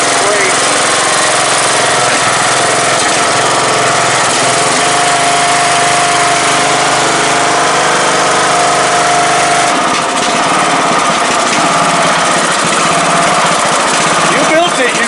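A small early-2000s off-road vehicle engine runs loud and close, a steady high-pitched buzzing drone that holds for the whole stretch with only slight shifts in pitch.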